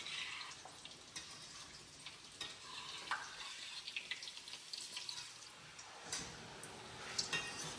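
Halwai-style samosas fry in hot oil while being stirred, a continuous close sizzling hiss with occasional scraping and bubbling, no talking.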